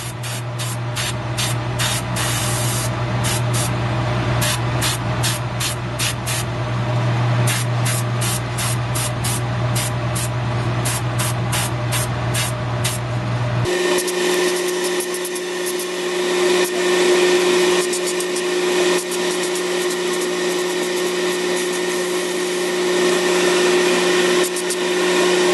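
DuraCoating finish is sprayed onto the small parts of an AR trigger assembly in a steady, close, continuous hiss. A run of short rhythmic bursts opens the passage over a low compressor-like drone, and a smoother, unbroken spray follows.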